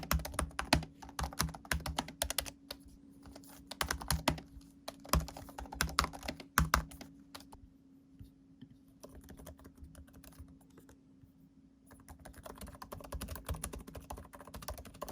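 Rapid, steady keystrokes on a 2020 MacBook Air laptop keyboard clatter up close, pausing briefly in the middle before the typing picks up again.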